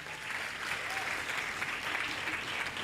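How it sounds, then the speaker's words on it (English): Graduates at a pharmacy and health care sciences oath taking ceremony applaud in a hall, a steady dense wash of clapping from a large crowd lasting throughout. "Give yourself a round of applause again."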